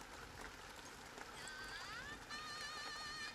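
Steady rain falls as a dense, even hiss that continues through the whole moment, with faint tonal sounds rising over it in the second half.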